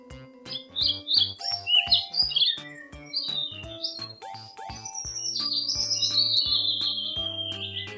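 A buzzard gives a series of high, sharp calls that rise and fall over a steady musical backing, fairly loud and close.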